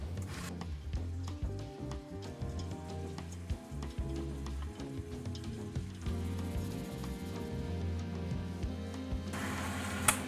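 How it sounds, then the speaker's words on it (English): An electric mixer runs at slow speed, beating eggs into crumbly, sandy cookies and cream cookie dough with a steady low whir and soft scraping churn throughout, with no talking. "I didn't have my mixer going around fast, it was all slow all the way"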